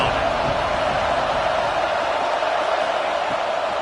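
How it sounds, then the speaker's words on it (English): A huge college football stadium crowd in Happy Valley roars on third down in a steady, dense wall of noise, loud and unbroken for the few seconds shown. "Here comes the noise from this big crowd in Happy Valley on 3rd down."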